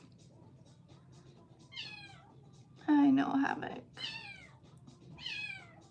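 A Bengal cat meows several times, each call a short rising-and-falling cry, with a louder, harsher yowl near the middle; the calls sound close and clear while a person speaks softly between them over a low indoor background.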